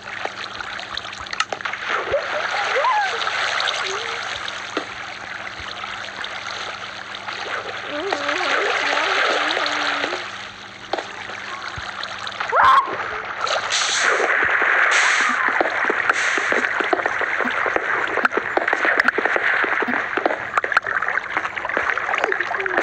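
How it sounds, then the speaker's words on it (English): Steady flowing water with splashy, trickling texture runs throughout a prehistoric-era video game scene, fairly loud and continuous, while a person talks over it. "Water."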